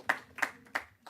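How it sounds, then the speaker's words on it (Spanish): A handful of slow, distinct claps at a poetry reading, four separate hand strikes spaced about a third of a second apart, moderately close with quiet gaps between. "Un aplauso para Nuria, que escribió"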